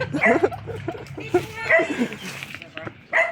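A dog yips and whimpers in short excited bursts, close by, mixed with people talking.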